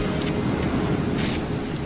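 Cars rolling in at a drive-in, a steady loud engine and road rumble with hissing, brake-like bursts passing close by, no voices.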